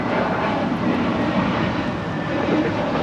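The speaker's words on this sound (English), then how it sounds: "This is JetBlue Airways Flight 1524 departing to JFK on an A321 NEO." A JetBlue Airbus A321neo jet departs Los Angeles International Airport with a steady, broad engine roar, loud and unbroken for the whole stretch with no voices over it.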